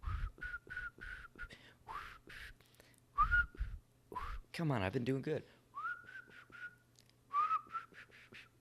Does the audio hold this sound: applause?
no